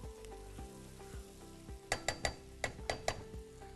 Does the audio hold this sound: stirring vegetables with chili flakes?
yes